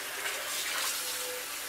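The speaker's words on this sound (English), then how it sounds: "You just put hot water," Hot water runs from a kitchen tap into a cast iron pan, a steady close rushing hiss with no break and no voices.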